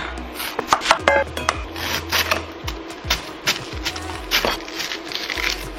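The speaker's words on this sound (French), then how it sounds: "Donc on va râper ça." Vegetables are grated by hand on a grater, a series of uneven scraping strokes over a low steady hum.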